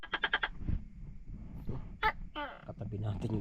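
A tuko gecko calls at night beside a sleeping spot on a farm, giving a short run of rapid, rhythmic croaks up close. Scattered other night creature sounds and a voice follow.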